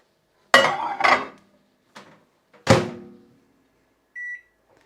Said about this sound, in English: pop it in the microwave now for another